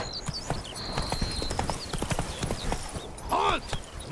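Roach the horse in The Witcher 3: Wild Hunt, Blood and Wine, trotting with rapid, close clip-clop hoofbeats, a brief whinny near the end and a short voice.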